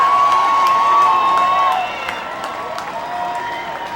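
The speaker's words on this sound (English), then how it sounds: "So the crowd getting loud here with the tying runs aboard in the 9th inning." Baseball crowd at a minor-league game between the Long Island Ducks and Sugar Land Skeeters cheering loudly in the ninth inning with tying runs on base, a broad roar that eases after a couple of seconds, with voices over it.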